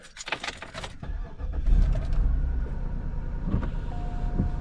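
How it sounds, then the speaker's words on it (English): A 2001 Cadillac DeVille's engine cranks and catches, settling into a steady idle after some clicks and rattles, heard close up from inside the car with a faint chime tone. "So what we're gonna do now is crank this bad boy up and see if we still get the lights."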